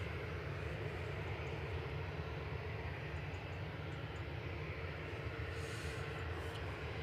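An Iberia Airbus A320-200 from Madrid on approach to Manchester Airport, a faint steady engine rumble and rushing drone with no voices.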